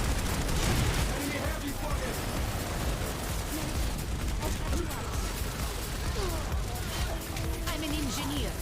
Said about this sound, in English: Someone's on the roof shooting at us.